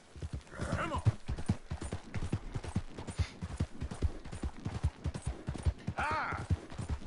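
A ridden horse clip-clops along in a cowboy ASMR scene, hooves falling in a quick, steady rhythm close by, with short bursts of a voice and a faint whinny between steps.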